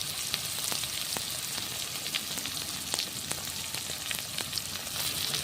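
Onions frying in a pan for a Bengali egg curry, a steady close sizzle with crackling pops and occasional stirring scrapes, continuous throughout with no talk.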